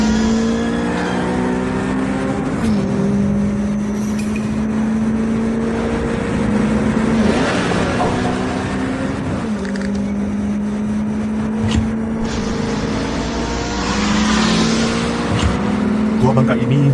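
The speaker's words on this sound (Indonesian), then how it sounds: "Mobil sport tanpa modifikasi kayak gini bisa dibawa secepat mobil balap" An unmodified sports car driven at racing speed, its engine roaring and shifting through repeated rising revs across the whole stretch, loud and close, with brief voices underneath.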